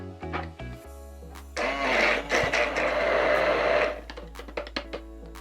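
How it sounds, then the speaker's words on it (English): Chili paste with red peppers and about two tablespoons of honey being ground in a blender, a loud steady whirring burst lasting a couple of seconds after a few short clicks and knocks, no one speaking. "Now let's grind it up."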